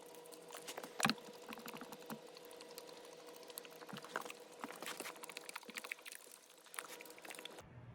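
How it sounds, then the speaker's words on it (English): Water poured over a freshly repotted Heliamphora pitcher plant, giving a steady soft patter and trickle of droplets on wet growing media, close by with a brief louder splash early on. "So I always water it thoroughly before putting it back in the tent."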